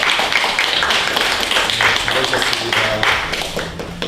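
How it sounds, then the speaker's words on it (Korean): A church congregation claps in welcome, a steady close round of applause with some tapping and faint voices underneath. "박수로 환영하겠습니다."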